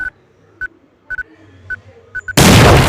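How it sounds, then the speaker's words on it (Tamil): Several short, evenly pitched electronic beeps precede a sudden, loud, roaring blast as a snake firecracker goes off in a Diwali simulator game, with the blast continuing to the end. "ஐயோ, பாம்பு வெடிக்க போகுது."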